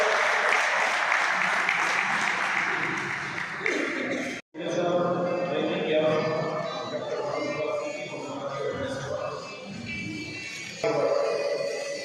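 A gathering of young journalists in Mandsaur bursts into a round of clapping that lasts a few seconds, then breaks off and gives way to a different, tonal background.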